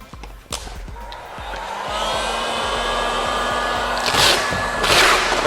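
A heat gun blows a loud, continuous whoosh of hot air to soften material for stretching, starting after a few thumps and swelling slightly near the end.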